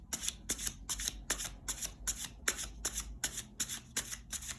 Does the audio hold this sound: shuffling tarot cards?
yes